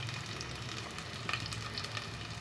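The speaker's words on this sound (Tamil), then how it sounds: "பச்சை மிளகாய், கருவேப்பிலை எல்லாம் சேர்த்து போடுறேன். சேர்த்து இதை நல்லா வதங்க விட போகிறேன்." Onion, green chilies and curry leaves sauté in a pan for a crab curry, making a soft, even sizzle with faint occasional stirring.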